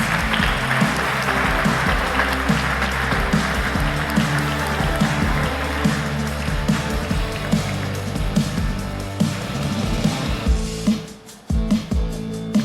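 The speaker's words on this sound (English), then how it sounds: "Big applause." A crowd at a startup pitch competition final cheers an award winner with loud, sustained applause, dense clapping close up that fades out near the end.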